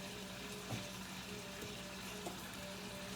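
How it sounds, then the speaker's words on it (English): Quiet, steady sizzling of potatoes frying in a pan, a soft continuous crackle with a couple of faint pops. "Gonna let my potatoes fry up."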